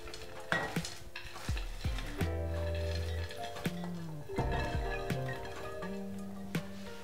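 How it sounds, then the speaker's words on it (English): Fruit and nuts are folded into thick loaf batter, giving soft, wet stirring and scraping strokes with light clinks of a utensil against the bowl, close and steady with no talk. "So you just kind of fold in the fruits and nuts, so they're well combined"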